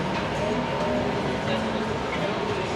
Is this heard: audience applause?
no